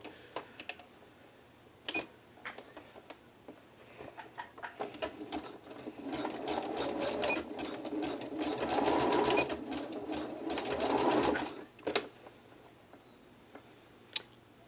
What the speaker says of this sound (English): Pin and then sew. I like to use a zigzag stitch when I'm sealing my elastic.